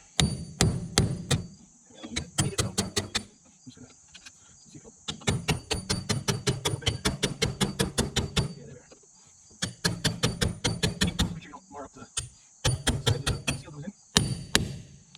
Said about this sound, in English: I'm just going to hammer it to the center